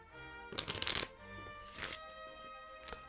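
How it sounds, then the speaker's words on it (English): A deck of playing cards is shuffled quickly up close, a rapid riffling burst followed by a couple of shorter flutters against a quiet room with a faint steady hum. "I'm going to shuffle these cards really quick"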